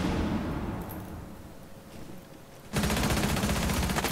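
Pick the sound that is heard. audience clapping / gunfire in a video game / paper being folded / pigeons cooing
gunfire in a video game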